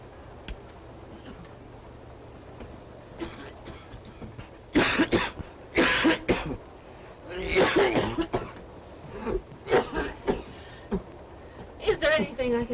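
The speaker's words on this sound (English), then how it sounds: "Can you hear that poor man coughing?" A man on a train coughs repeatedly in harsh, irregular bursts, fairly close, with a faint steady ticking and low rumble underneath and brief speech around the coughs.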